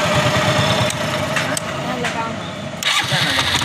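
A motorcycle engine turns over on its electric self-starter and settles into a steady idle, with someone talking over it throughout.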